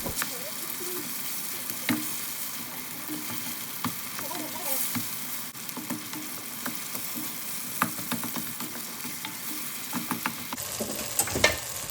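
Tomato cooking in a pan for a banana flower pakoda curry, giving a steady moderate sizzle throughout with scattered clicks and taps of a spoon against the pan, no talking.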